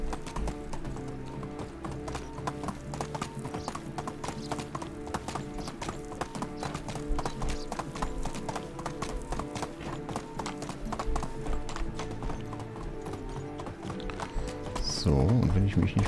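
Horse hooves while riding in the video game Medieval Dynasty, a steady rhythmic clip-clop of hooves running on and on, with a brief whinny near the end and a person talking over it.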